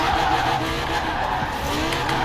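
A car drifts in a racing video game, its tires squealing in a continuous smeared screech over a steady engine drone, loud and close throughout.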